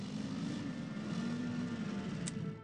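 A bomber's engine drones steadily in the strategy game Panzer General II, a continuous low propeller hum held at even loudness throughout with no talking.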